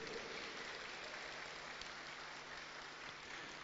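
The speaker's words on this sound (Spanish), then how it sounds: "Fuerte el aplauso de los presentes." Steady, dense applause from a crowd at the opening ceremony of AgroFest Naranjito 2022, a continuous wash of clapping at even loudness throughout with no pauses.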